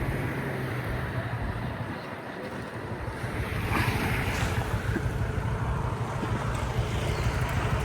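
Steady surf and wind roar on the beach at Coral Island in Pattaya, a continuous wash of waves heard up close with wind buffeting the microphone.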